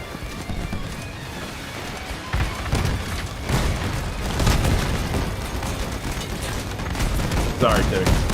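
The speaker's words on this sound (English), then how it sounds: "So many shots. So many missiles." Rapid video-game gunfire and missile explosions, overlapping booms and shot bursts in a dense barrage at moderate loudness with a few heavier hits, a voice talking over them.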